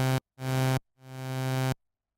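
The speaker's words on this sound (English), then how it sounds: "The attack controls the length of time it takes for the signal to reach full volume like this." Three sustained synthesizer notes sound one after another, the later ones swelling in gradually rather than starting sharply, each cutting off cleanly into silence.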